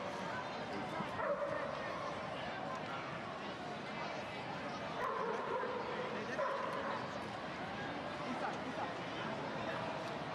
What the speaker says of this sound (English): Can hear the dogs barking.